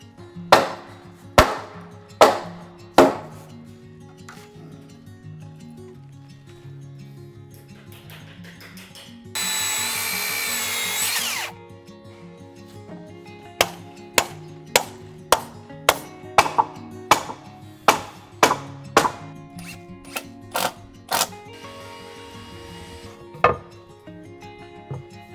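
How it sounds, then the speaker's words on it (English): A carpenter hammers nails into wooden beams while building a Japanese house, sharp loud blows in quick bursts with pauses between, and a short burst of a power tool whirring partway through, no talk. "This is a usual scene of nailing."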